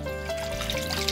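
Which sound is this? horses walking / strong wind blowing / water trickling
water trickling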